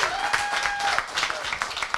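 Audience at a press conference applauding, a steady patter of clapping from a room of people with a tone and some voices mixed in.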